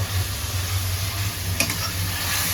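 Spice masala fries in a pan with a constant sizzle, one brief stirring clack midway and a low steady hum underneath, with no voices.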